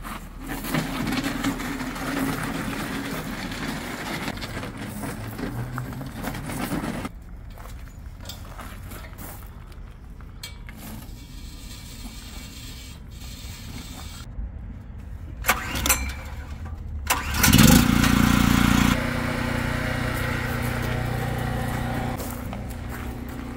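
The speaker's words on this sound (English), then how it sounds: "I'm gonna use the generator because this is a really high amp machine" A generator starts up to power a Ridgid 300 pipe threading machine, with a rough engine catch and a sustained mid-pitched running drone, close by; a brief louder surge near the end.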